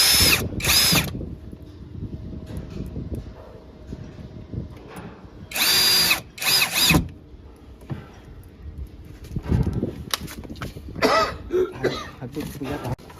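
A power drill drives screws through a hinge into a base cabinet in several short loud whirring bursts, close by, with talk and a cough in the gaps between runs.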